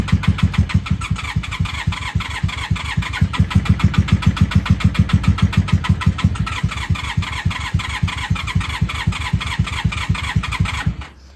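Honda Magna 750 VF750C motorcycle engine cranking without catching, a loud, close, rapid rhythmic chugging from the starter that runs continuously for about eleven seconds before abruptly stopping.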